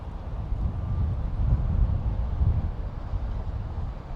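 Steady wind buffets the microphone during a drone flight over North Acton, London, a continuous low rumbling roar that stays loud and even throughout, with no talking.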